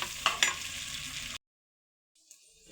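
Shallots sauté in a pan for Tamil kara kuzhambu, a close, dense sizzle with a couple of sharp stirring clicks that cuts off abruptly into silence before a faint return of sizzle.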